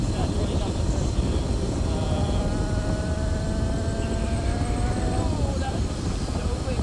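Razor MX650 electric dirt bike upgraded with a 48 V Kelly controller and 2 kW motor accelerating outdoors, a steady rising motor whine under heavy wind rumble.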